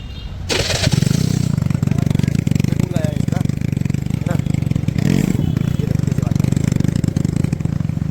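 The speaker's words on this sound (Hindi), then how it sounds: "देखना आप अब इसकी आवाज़ बुलेट जैसी आवाज़ कर रही है" A motorcycle engine, said to sound like a Royal Enfield Bullet, starts up close by after a brief pause and then runs loudly and steadily with a throbbing idle to the end, with some faint voices underneath.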